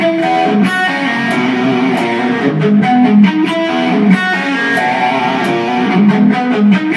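An electric guitar through a TC Electronic G-System with very high distortion gain plays thick, sustained chords and riffs, loud and saturated, with no voices.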